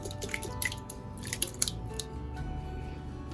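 Thick homemade fat-free Greek yogurt from an Instant Pot is dumped into a towel-lined strainer, making faint wet plops and soft sticky drips with a few small clicks against quiet background hum.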